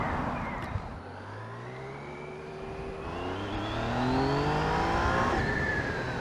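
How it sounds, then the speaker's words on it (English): A 2020 Yamaha Tracer 900 GT motorcycle riding through bends, its engine rising and falling in pitch through repeated gear shifts and acceleration, loud and steady with wind noise. "we're going to go and see what this bike can really do through the bends."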